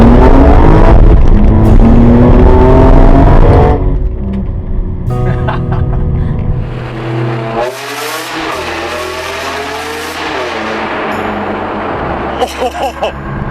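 A 2004 BMW M3 with a 3.2-liter inline six, 333 horsepower, revs hard toward its 8,000 RPM redline, a loud rising engine howl that drops off and climbs again in bursts, with a voice exclaiming partway through.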